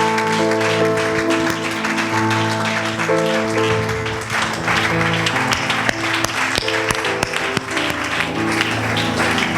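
A Sunday church congregation applauds and cheers in praise, a steady wash of clapping heard throughout alongside loud sustained music.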